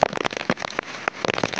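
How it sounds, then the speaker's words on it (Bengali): Heavy rain patters and splashes nearby in dense, irregular crackling drops, sounding close and fairly loud over the whole short stretch. "দেখো বর্ষা হচ্ছে"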